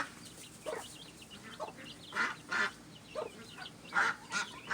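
A hen with her chicks on a farm, giving a series of clucks and honking calls, repeated at irregular intervals, moderately close yet soft, with no talking.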